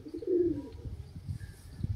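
A red pigeon gives a single low throaty coo close by, followed by faint soft rustling and quiet background, with no talk.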